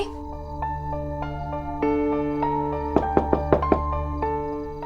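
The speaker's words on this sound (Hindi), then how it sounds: "इतनी देर से खटखटा रहे हैं, जवाब ही नहीं दे रही हैं।" A quick series of about six sharp knocks on a door, close and distinct, rapping over sustained dramatic musical tones in a TV drama scene.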